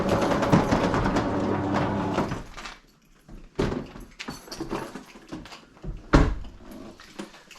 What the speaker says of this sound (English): These doors are so slow.